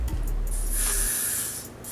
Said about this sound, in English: Then we can spray some more.